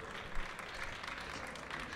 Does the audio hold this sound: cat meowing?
no